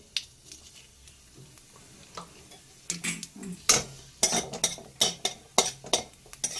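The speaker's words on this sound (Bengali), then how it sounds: "এইবার আমি তেলেতে দিয়ে দিচ্ছি সর্ষে কালো সর্ষে এখানে অ্যাড করলাম ফোড়নে" Black mustard seeds hitting hot oil for a tempering, starting as a faint hiss and building into a run of sharp crackling pops and spatula scrapes against the pan, close and fairly loud.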